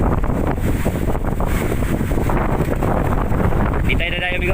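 Strong wind buffets the microphone aboard a boat in rough seas in the West Philippine Sea, a constant loud roar with the wash of waves underneath.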